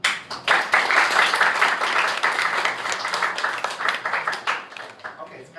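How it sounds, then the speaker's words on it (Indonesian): A classroom group claps in brisk applause for a student, a dense burst of many hands that starts abruptly, holds steady for several seconds, then thins out; a voice is briefly heard over it. "Aplaus dulu."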